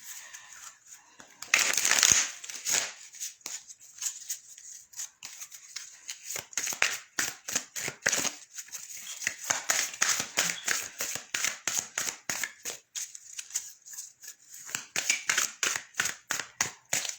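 Tarot cards are shuffled in repeated quick bursts of crisp riffling and slapping, close and fairly soft, with short pauses between rounds and no speech.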